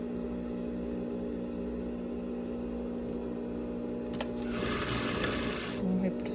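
Sewing machine stitching baby romper fabric, a steady mechanical hum running close throughout with a brief louder rattling burst near the end, while someone talks over it.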